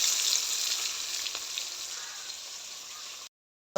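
Bakful (bok) flowers frying in oil in a wok, a continuous close, even sizzle that cuts off abruptly near the end.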